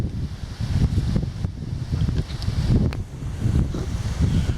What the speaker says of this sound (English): It was windy and the rain was off and on all day long.